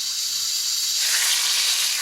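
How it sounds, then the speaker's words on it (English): Pork chops hit a hot cast iron pan coated with olive oil and sizzle steadily, a bright, close hiss that swells a little louder halfway through and carries on with no voices over it. "That's what we want, that nice sizzle."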